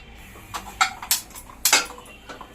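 Whole spices, including coriander seeds, being dry roasted in a pan over low flame for a traditional Malvani masala: sparse metallic scrapes and clinks of a spoon against the pan, several sharp clatters at irregular intervals, no talking.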